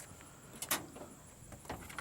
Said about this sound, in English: them doors shut nice too